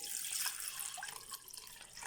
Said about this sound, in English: put your clean water in.